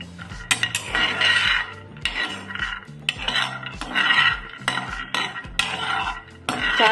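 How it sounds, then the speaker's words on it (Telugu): Peanuts being dry-roasted in a hot pan for a peanut-sesame chutney. A utensil stirs and scrapes them steadily, giving continuous rattling, clinking and scraping with rhythmic strokes and no talking. "ఇప్పుడు పల్లీలు వేడి చేసుకున్నాం."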